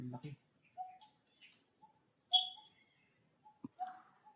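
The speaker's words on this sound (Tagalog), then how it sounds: "Tapos yung mga ibon kaiingay." Scattered bird calls in a forest, short sparse chirps and whistles at moderate distance over a faint steady insect-like hiss, with a brief low thump at the start and a click near the end.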